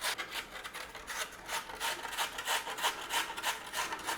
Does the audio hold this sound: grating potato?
yes